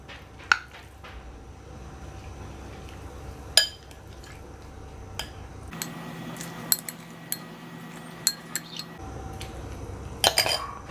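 Meat marinated for Indonesian asem-asem daging going into a pot of boiling water, heard as scattered clinks and knocks of utensils against the pot with a low bubbling bed of liquid, close and moderately loud, with no talking.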